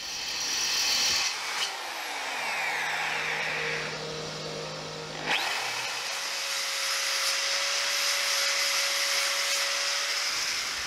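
A power drill bores holes into a metal motorcycle bracket on a cafe scrambler build, whining steadily with a pitch change midway as the bit bites, then carrying on with a high, even drone.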